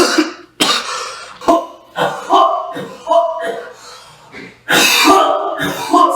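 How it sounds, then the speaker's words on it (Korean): Several loud, harsh coughs come in quick bursts, close up, with breathing between them and a louder fit near the end. "기침할 때 입 좀 가려"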